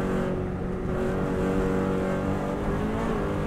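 A Subaru race car runs a full lap flat out in fifth gear, its engine droning loud and steady at high revs with a constant harmonic whine and no talk.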